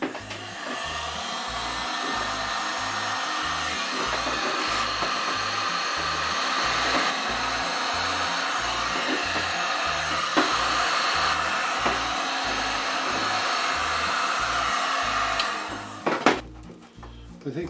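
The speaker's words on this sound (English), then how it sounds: "Now we have my heat gun here, so we'll shrink that." A heat gun blows a steady, loud whooshing roar across a wire wrapped in heat-shrink tubing during a CanAm grip and thumb warmer install, holding evenly for about sixteen seconds before cutting off with a few clicks.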